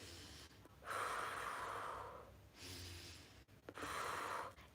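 Slow deep breaths in and out, each a long, airy breath lasting a second or more, close and fairly loud, repeated three times with brief pauses between and no speech.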